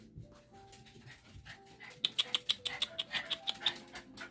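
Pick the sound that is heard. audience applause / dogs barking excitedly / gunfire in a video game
dogs barking excitedly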